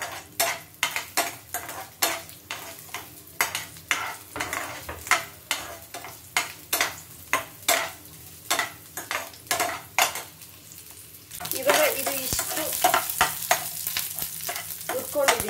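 Onion and garlic stirred and fried in a pan, with a rhythmic series of close, sharp spatula knocks against the metal over a constant sizzle, giving way to a louder, denser hiss of frying near the end.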